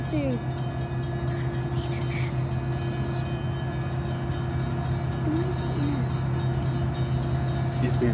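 A Norfolk Southern freight train 222 led by a BNSF locomotive rolls past with a steady, droning rumble of cars and engine, as horn-like tones rise and fall faintly and people talk nearby.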